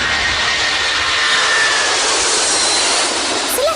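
A propeller airplane's engine runs in a loud, steady, close roar that holds unbroken throughout, with no voices over it.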